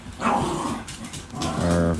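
Dogs growl and snarl while tussling over a towel indoors, two sustained bouts of deep rumbling growls with a brief lull between, close and fairly loud.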